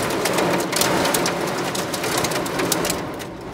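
Heavy, violent rain or hail pounds down in a steady, dense roar with scattered sharp drop impacts, loud and close throughout without speech.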